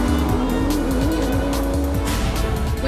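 GT race cars in the Australian GT Championship at the Clipsal 500 street circuit roar at speed into turn one with loud, continuous engine noise and tyre squeal.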